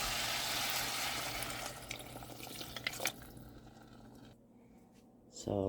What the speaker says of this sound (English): Pour my broth.